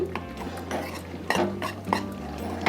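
Spinach curry ingredients frying in a pan while a spoon stirs them, making repeated scraping and clinking strokes against the metal over a low, steady sizzle, close and fairly loud.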